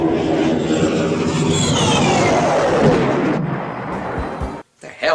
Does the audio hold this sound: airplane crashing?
yes